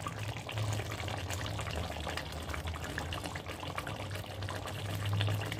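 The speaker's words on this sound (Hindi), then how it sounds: "और ये गया घी।" Ghee poured into a pot of Mughlai handi chicken with ginger julienne, coriander and garam masala, a soft steady liquid trickle and sizzle running continuously at close range, fairly quiet.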